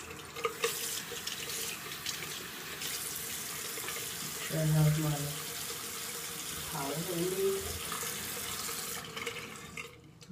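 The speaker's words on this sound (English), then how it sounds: "I'm gonna take warm water." Warm water runs steadily from a sink tap for several seconds, with a person speaking briefly over the flow.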